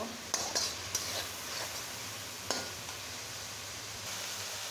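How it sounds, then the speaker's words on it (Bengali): Dried chili paste with onion, garlic and cumin frying lightly in a pan gives a faint steady sizzle, with a few sharp utensil clicks near the start and one more midway. "শুকনো লঙ্কা পেস্ট। এটা একটু হালকা ভেজে নেব"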